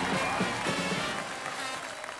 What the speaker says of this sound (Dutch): eerst graag uw applaus, ovationeel, voor ons huisorkest